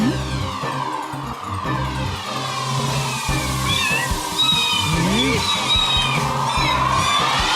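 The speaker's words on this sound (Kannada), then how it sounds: "ಮಿಯಾವ್ ಮಿಯಾವ್ ನಾನ್ ಮಾಡ್ತೀನಿ" A cartoon cat meows repeatedly in drawn-out, wavering calls over background music, with voices speaking between them.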